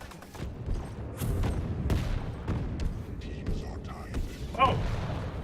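Railgun shots and other weapon fire during a Quake Champions match, scattered sharp cracks and thuds over busy game noise, with a voice talking throughout.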